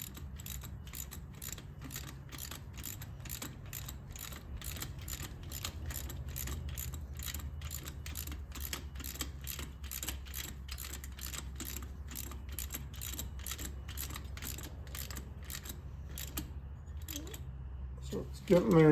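Ratchet tightening a new spark plug on a 2009 Police Special motorcycle, a steady run of sharp, evenly spaced clicks heard close up, with a louder knock right at the end.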